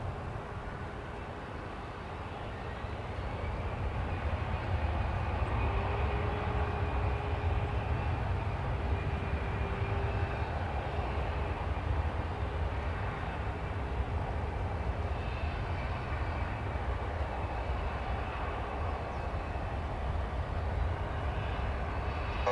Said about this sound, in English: American flight 2759 and A320.